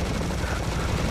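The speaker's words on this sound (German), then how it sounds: "Ich hab die ganze Zeit meine Laserknarre alle geballert." A laser gun fires in the shooter game Serious Sam HD The First Encounter in a dense, rapid, continuous rattle, loud and close, filling the whole moment without pause.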